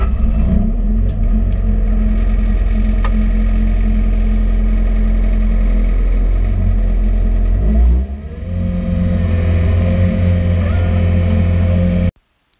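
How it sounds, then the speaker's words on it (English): A 2014 Bobcat S550 skid steer engine runs loud and close with a steady, heavy drone that briefly dips around two-thirds of the way through before settling back, then cuts off abruptly at the end. "this is day one using the new to me Bobcat S550 skid steer"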